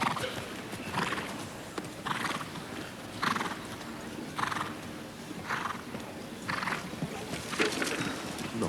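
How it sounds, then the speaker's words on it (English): Show jumping horses whinny in repeated bursts about once a second over steady hoof clip-clops, with a busy arena crowd murmuring faintly behind. "The horses settle down again,"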